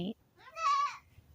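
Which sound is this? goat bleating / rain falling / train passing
goat bleating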